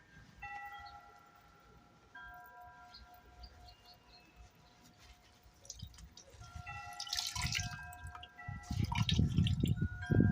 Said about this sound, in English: what I do is I rinse it out real good, and squeeze her up